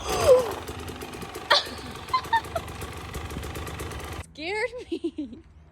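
A dirt bike engine runs nearby outdoors, a rough, knocking putter with a few sharper revs, fading out as a person starts talking at the end.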